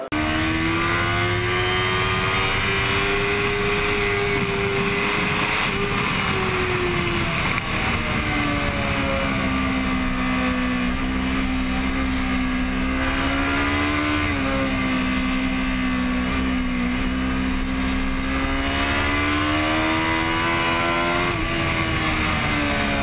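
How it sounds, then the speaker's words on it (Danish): Onboard engine sound of a 2011 Kawasaki Ninja ZX10R at Losail circuit in Doha, a loud continuous high-revving howl that rises and falls through gear changes and corners, close and unbroken throughout. "Nu har jeg jo så været med onboard sammen med den nye ZX10."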